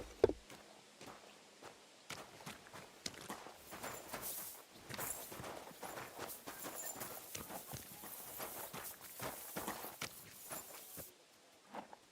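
Horse hooves clip-clop steadily in Kingdom Come: Deliverance 2, a run of close, fairly quiet footfalls at a walking pace that continues for several seconds before fading out.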